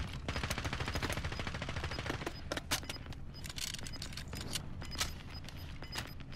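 Rapid bursts of gunfire from a Warzone match crackle throughout, dense and steady with sharper close shots standing out, with no talk.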